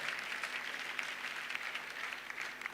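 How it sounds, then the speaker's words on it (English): An audience at a Lagos wealth summit applauds, steady dense clapping from many hands heard from a moderate distance, fairly faint and even throughout. "You can clap"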